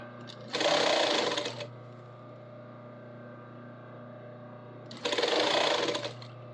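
A sewing machine stitches a bodice in two short runs of rapid, whirring stitching, each lasting about a second, close and loud, with a quiet steady hum between them.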